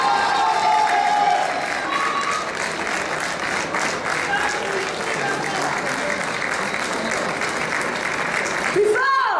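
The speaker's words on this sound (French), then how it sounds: "On peut les applaudir très très fort" Loud, sustained applause from a crowd at a cocktail competition prize ceremony, with cheering and voices mixed into the continuous clapping throughout.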